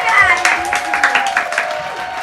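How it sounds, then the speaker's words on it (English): A small group claps for a child during a home muffin-baking session, with scattered, uneven claps close by and a voice speaking over them. "Round of applause for Mariah."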